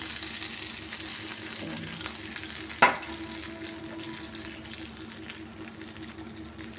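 Hot tempering poured into peanut chutney crackles and sizzles in a steady broadband hiss, with a sharp click or clatter near the middle and a few faint stirring scrapes, close by and with no talking.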